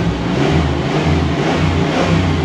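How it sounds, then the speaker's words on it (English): A neglected Chevrolet Caprice engine revs up in park and holds a loud, steady roar close by, with no talking. "Give it a few revs."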